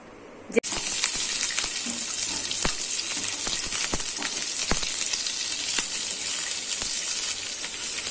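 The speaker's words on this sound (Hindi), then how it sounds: "यहाँ पर मैंने सोयाबीन को कॉर्नफ्लोर में मिक्स कर लिया है अब मैं इसे तलने जा रही हूँ" Soybean chunks coated in cornflour frying in hot oil, a loud, steady sizzle that starts abruptly and keeps going with scattered sharp pops and crackles.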